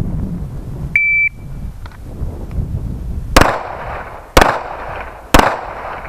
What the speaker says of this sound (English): you're going to draw and fire 3 rounds